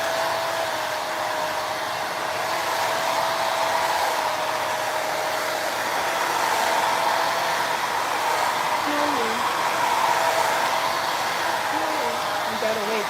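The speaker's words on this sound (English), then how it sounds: "When the blow dryer is on." Blow dryer drying hair, a steady loud whirring roar holding for the whole stretch, with faint voices briefly under the noise.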